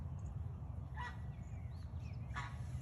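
Chickens cluck in a backyard on a Monday morning, a couple of short calls rising over a steady low outdoor rumble.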